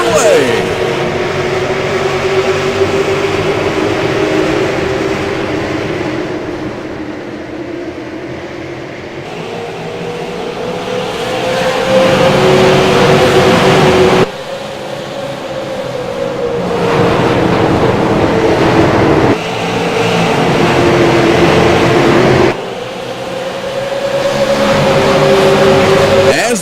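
Race cars in an all-star bump-and-run race at an Iowa track buzz past in a steady, rising and falling engine drone that swells as the field passes, with a commentator talking over it throughout.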